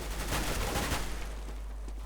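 Rapid bursts of gunfire in Counter-Strike: Global Offensive, dense crackling shots in the first second that thin out and fade into a quieter background.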